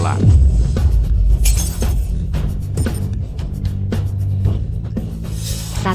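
A loud shattering crash at the start, followed by scattered tinkling and clattering fragments settling over several seconds.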